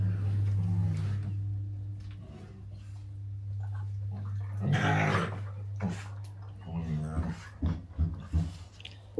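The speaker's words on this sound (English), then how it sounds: "The dogs are making a funny noise." Several pet dogs, one named Dot, growl and make odd grumbling, whimpering noises close by indoors in a home on pillows and a cardigan, with a steady low hum underneath and bursts of sound toward the end.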